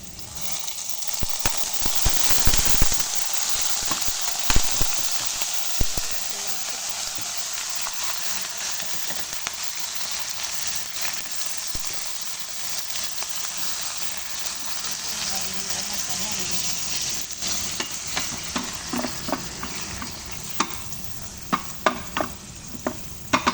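Squid hitting a pan and frying with vegetables, a continuous sizzle with repeated stirring scrapes and clicks that grow busier toward the end, and a voice talking faintly beneath.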